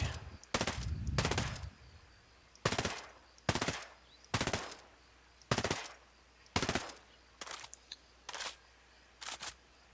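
An assault rifle fires in the video game Ghost Recon Breakpoint, emptying a full magazine in about nine or ten sharp bursts of automatic fire separated by brief pauses, with no voices.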